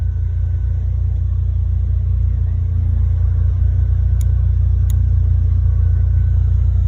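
A 2008 Buick Lucerne with a 3.8 engine and a faulty ignition module cranks steadily without catching, a loud, even, low rumble lasting throughout with no voices.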